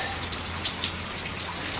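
Water runs steadily from a tap while soapy water washes diesel off, a continuous close hiss and splash with no talk.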